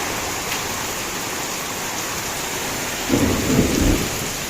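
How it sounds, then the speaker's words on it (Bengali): Heavy rain pours down in a steady, loud roar, and a low rumble of thunder rolls in near the end. "প্রচন্ড জোরে বৃষ্টি হচ্ছে"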